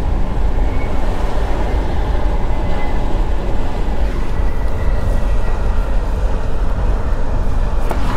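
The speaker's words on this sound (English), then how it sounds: "I can hear a plane, but I can't see it at the moment." A jet airliner passes overhead at night in Sydney, a broad steady rumble mixed with road and car noise heard from inside a moving vehicle.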